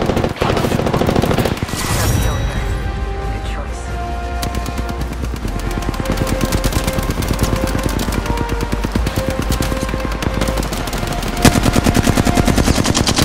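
Rapid bursts of automatic gunfire in a loud Apex Legends firefight, dense rattling shots running nearly nonstop across the whole stretch, with game music and effects layered underneath.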